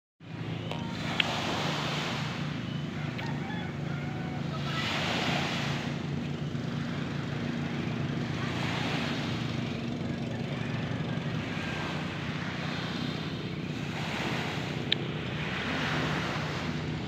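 Surf washing ashore on a beach in slow, repeating swells under steady wind noise, continuous and fairly loud with no talk.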